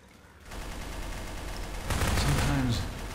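A machine gun fires in Garry's Mod zombie survival, giving a loud continuous rattle that swells in the second half and stays up close. No speech rides over it.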